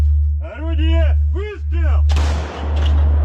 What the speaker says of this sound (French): Nous sommes sur une position d'artillerie des soldats russes.